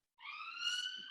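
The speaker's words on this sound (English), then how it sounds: "I don't know where all these sirens are coming from." A wailing emergency siren rises and holds steady in the distance, faint but clear, heard from indoors during a quiet moment with no talking.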